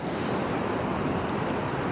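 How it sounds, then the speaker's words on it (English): Sea waves break and wash steadily along the Boyndie Bay shore, a constant loud roar of surf with some wind buffeting the microphone and no voices. "these waves are going to come in at those bags in a minute"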